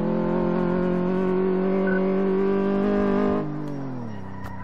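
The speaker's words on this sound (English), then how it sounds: "Handbrake turn to finish." A car in the video game Car Mechanic 2014 holds a loud, steady engine drone that drops in pitch and eases off near the end as it slides through a handbrake turn, with no talk over it.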